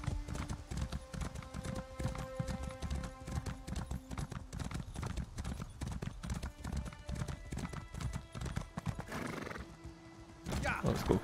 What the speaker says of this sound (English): this horse is slow